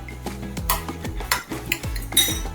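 Pounded ginger and green chillies tipped into a bowl with a spoon, giving a run of sharp clinks and scrapes of metal against the dish, close and fairly loud, with no voice.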